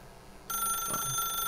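A telephone in the video game The Stanley Parable starts ringing partway through, a steady, bright electronic ring that continues without a break after a quiet opening.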